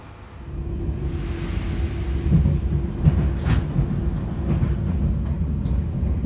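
A train pulls into Henderson train station, a steady low rumble of rail cars with a droning hum and faint clanks, moderately loud and continuous, with no talking.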